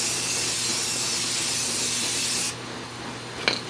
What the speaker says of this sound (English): I'm going to pick up the back of the box and stuff and spray it like this